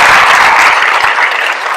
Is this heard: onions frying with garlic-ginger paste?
no